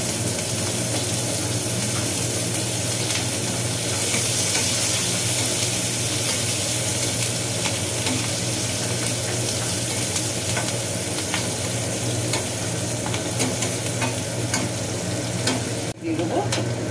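Sliced onions and chopped ginger sizzle in hot oil in a pan for bhindi masala, a steady close frying hiss with occasional stirring scrapes, continuous throughout and no talk.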